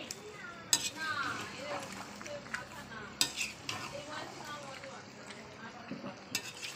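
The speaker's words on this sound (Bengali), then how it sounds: "পুরো আলুটা দিয়ে দিয়েছি, দিয়ে ভালো করে মশলার সঙ্গে কষিয়ে নেবো।" Boiled potatoes stirred and fried with spices in a pan, a spoon scraping and clinking against the metal over a low sizzle, with sharp knocks at intervals and a voice talking faintly at times.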